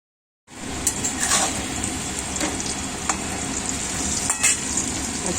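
Potatoes fry in a pan in a home kitchen, a loud, close, continuous sizzle that starts abruptly after a moment of silence, with a few clinks of stirring.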